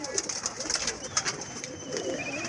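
Pigeons cooing on a rooftop, several soft repeated coos close by, with light flutters and faint background noise.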